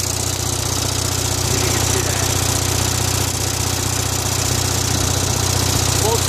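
An Onan 5CCK generator engine runs steadily and loudly up close, a constant droning hum with heavy low rumble and broadband mechanical noise, unbroken from start to finish.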